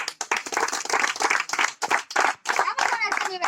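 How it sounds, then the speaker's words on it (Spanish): An audience at a freestyle show claps and applauds in uneven bursts, fairly close, with voices talking over the clapping. "Un aplauso, por favor."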